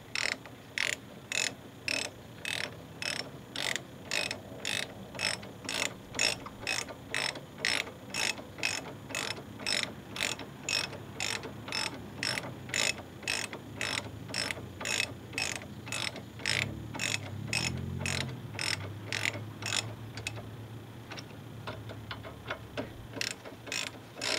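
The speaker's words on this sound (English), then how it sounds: "I'm just tightening the caliper down" A ratchet tightens the front brake caliper bolts on a 2003 Ford Focus SE, giving a steady, evenly spaced run of loud clicks close by that lasts throughout, with a faint low clunk partway through.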